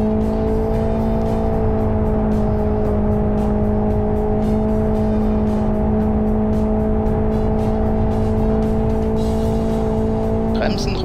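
Sustained high-pitched drone of a race car engine at full throttle in the racing simulator Live for Speed, steady and unbroken throughout, with someone talking over it in German.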